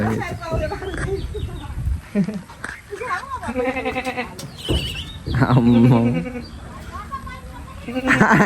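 Goats bleat several times close by, wavering calls spaced across a few seconds over background rustling and murmurs.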